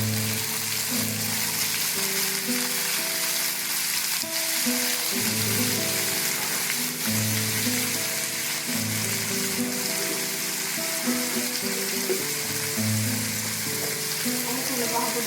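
Chopped garlic and curry leaves fry in a little oil for a bitter gourd curry, giving a continuous loud sizzle with occasional stirring while a person talks over it.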